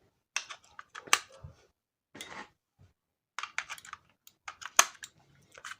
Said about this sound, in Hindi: ये 2 सेल लगा दिए।